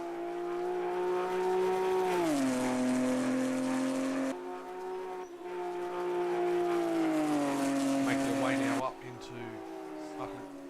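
Race cars in a Bathurst 6-hour sim racing event drone past with loud, sustained engine notes that shift pitch with gear changes and downshifts, while a commentator talks over the racing.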